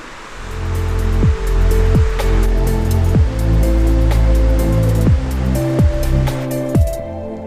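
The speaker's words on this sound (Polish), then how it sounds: "Wodospad." A waterfall in Iceland roars loud and close in a heavy, continuous rush, with steady humming tones and repeated short dips running through it.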